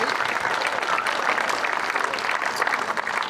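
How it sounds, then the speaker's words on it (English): A crowd applauds Hall of Fame finalists at a 2021 Hall of Fame announcement, with steady, dense clapping that holds at an even level throughout, with no speech over it. "So a round of applause for those individuals."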